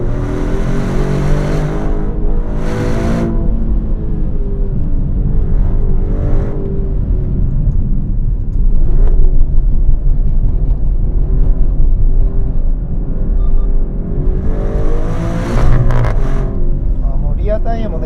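A Maserati Grecale Trofeo driven hard on a cold winding road, its engine droning loudly and steadily with rising and falling revs throughout, while someone talks over it from inside the cabin.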